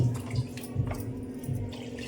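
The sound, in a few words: water poured into a cooking pot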